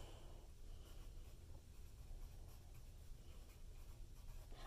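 Pencil or pen writing on paper makes a faint, continuous scratching close by, quiet and steady throughout.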